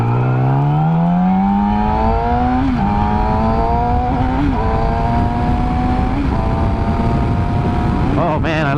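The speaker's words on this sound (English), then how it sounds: "this bike, it gives you the most awesome sounding engine for inline 4s" A Yamaha R6 motorcycle's inline-four engine revs up close, its loud note climbing steadily with a few brief throttle blips along the way.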